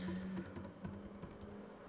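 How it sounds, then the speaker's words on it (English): Rapid keystrokes on a computer keyboard while a website name is typed into a search box, close and steady clicking through the whole stretch with no talk. "So I type in RapidForex and I search for it"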